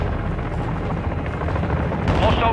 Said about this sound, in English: Hostile chopper gunner in the AO.